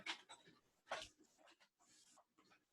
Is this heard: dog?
yes